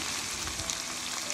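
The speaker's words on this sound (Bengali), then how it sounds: "প্রথমে তেল গরম করে একটু পেঁয়াজ দিয়ে দিলাম। আর পেঁয়াজটাকে ভাজতে হবে একটু ব্রাউন করে" Chopped onions with a pinch of salt browning in hot oil in a home kitchen, giving a steady, close, even sizzle and hiss with no voices.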